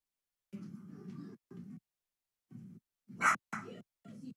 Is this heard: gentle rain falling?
no